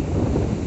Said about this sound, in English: Just enjoying the weather, even though it's bloody windy as hell.